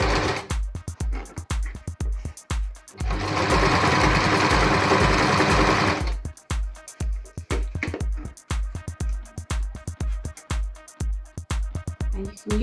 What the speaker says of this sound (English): So we're just going to sew those two edges together so it will stop the two layers of the mask from moving